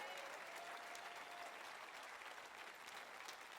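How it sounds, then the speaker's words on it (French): A church congregation applauds together during a worship service, a faint, even blanket of many hands clapping that stays steady from start to finish. "est-ce qu'on peut applaudir ensemble Nouvelle Vie encore aujourd'hui?"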